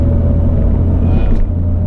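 Jaguar E-Type engine breathing through a Classicfabs stainless free-flow exhaust, a steady deep rumble running close and loud without a break.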